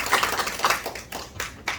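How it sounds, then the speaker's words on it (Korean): Scattered hand claps rise from a small audience at a regional press forum hosted by a Korean city council, a brief, moderately quiet patter that fades unevenly after under two seconds. "교수님을 큰 박수로 맞이해 주시기 바랍니다"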